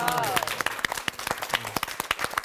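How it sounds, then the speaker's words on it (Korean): A room of people at a Bible lecture breaks into brief, scattered clapping, with distinct sharp claps in an uneven rhythm and a voice speaking over the start. "그래 박수 한번 합시다"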